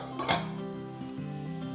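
A lid set onto a cooking pot of tomatoes with salt over medium-low heat, a single close metallic clank near the start followed by a soft, steady simmering hum.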